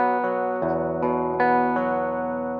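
Clean electric guitar plucking a slow arpeggiated figure from a song, single notes ringing into each other with sustain, played alone and fairly close.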